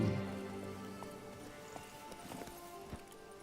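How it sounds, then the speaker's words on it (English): Hooves clip-clop softly and steadily under faint ambient music as a horse carries its rider on a long journey in The Witcher 3: Blood and Wine. "we're in for a very, very long horse ride"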